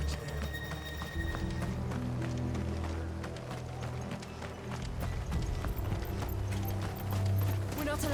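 Horses gallop in Final Fantasy 16, a steady, busy patter of hoofbeats mixed with clanking mechanical noise and a low rumbling soundtrack, all fairly loud and continuous.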